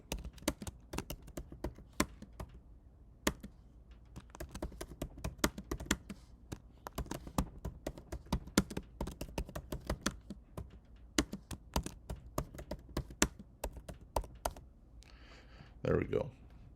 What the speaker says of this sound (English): I'm just going to type my name, the class, and the semester in here